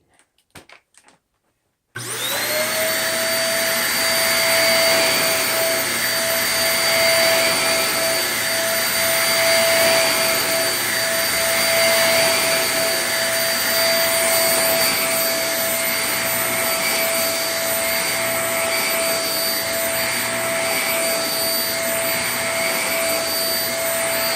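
A Shark NV22 upright vacuum cleaner on carpet switches on after a couple of seconds of quiet and runs steadily with a loud, high whine and motor roar, no voices.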